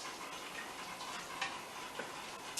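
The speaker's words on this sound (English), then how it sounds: "So we're going to stir that up" Marinara sauce is stirred in a pot, giving a soft continuous bubbling hiss with faint occasional spoon taps, quiet and close, with no talk.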